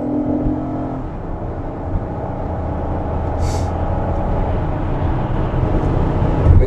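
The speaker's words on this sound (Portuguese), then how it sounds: "passando esse caminhão aqui" A truck rumbles along a road as it is passed, a steady close engine and tire drone with a brief hiss midway and the rumble growing slightly louder toward the end.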